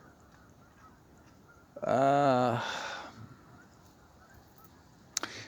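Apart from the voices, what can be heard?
geese honking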